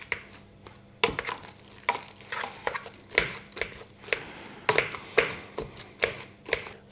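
Potatoes being mashed in a pot, a run of irregular soft thuds and squelchy presses close by, some sharper knocks of the masher against the pan, with no talking.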